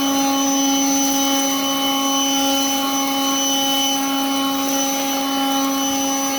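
A Ryobi 18V One+ HP Jet Fan Blower runs continuously outdoors among leaves, its steady whining, whirring drone holding an even level close by with no breaks.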